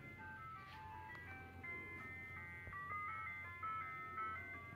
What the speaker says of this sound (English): Apparently it's the weird ice cream truck.